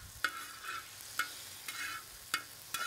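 A utensil stirs a thickening sauce in a pan for pork chops, with a sharp clink against the pan roughly every second followed by a soft scraping swish, over a low background sizzle and no talking.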